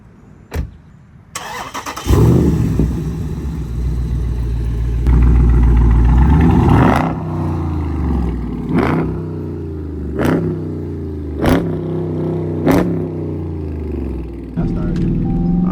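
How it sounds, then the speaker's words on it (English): A Dodge Charger starts up with a loud burst, then idles and is revved in several sharp, separate blips at close range. Speech is picked up faintly at points. "I'm about to jump in the Charger and give you guys a few revs."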